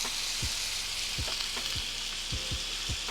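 Butter with rosemary and thyme sizzles and crackles loudly in a hot pan beside a steak, a dense close frying hiss with occasional spoon scrapes and no voice.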